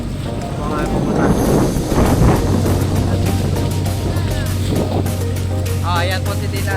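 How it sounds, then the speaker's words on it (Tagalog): A motor boat heads out to sea off Palawan, with a steady engine drone and rushing water and wind throughout, and voices and some birdlike chirps rising near the end. "Naandar na po ang bangka."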